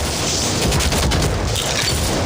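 Mounted gun firing in the World War Z VR video game, a dense continuous stream of rapid gunfire and rumbling booms, loud and steady throughout with no pauses.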